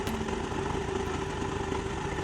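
A motorbike or scooter engine idles steadily close by, a continuous low hum with an even throb and no voices.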